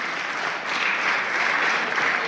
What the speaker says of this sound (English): can we give all of our wonderful speakers a big hand clap?